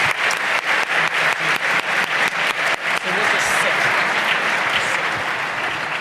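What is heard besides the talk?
audience applause for panelists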